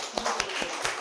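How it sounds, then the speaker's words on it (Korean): Children's ministry and congregation at a Sunday worship service clap briefly, a few distinct, fairly close hand claps in quick succession over a soft room hum. "우리 아동부에게 박수."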